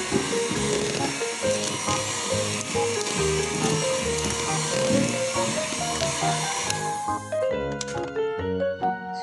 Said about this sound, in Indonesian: Ini kita kocok speed rendah ya, sebentar saja asal rata.